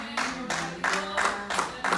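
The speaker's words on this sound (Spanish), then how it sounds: "Ese aplauso es para el Señor." Church congregation clapping in steady, rhythmic bursts during a Spanish-language sermon, loud and close with a held sung tone underneath.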